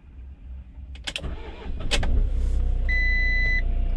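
A car engine cranks after a battery terminal disconnect and computer reset, with a couple of sharp bursts before it catches and settles into a steady near idle hum, a brief whine sitting over the running engine.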